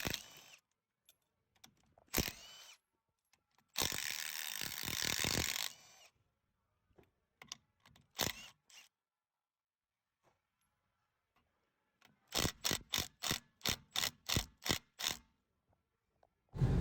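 A hand ratchet works loose the 13 mm bolts on the rear differential cover of a 2023 Ford F-150, heard close up as bursts of rapid clicking separated by pauses, ending in a fast, evenly spaced run of clicks.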